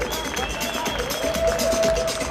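Audience applause at a DotA esports award ceremony, a steady wash of clapping with some crowd noise and a sustained tone running through it.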